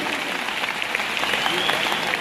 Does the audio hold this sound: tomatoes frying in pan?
no